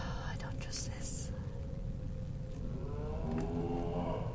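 Cows in the video game It Moves give a low, drawn-out moo under a dark game ambience, with a quiet voice whispering over it.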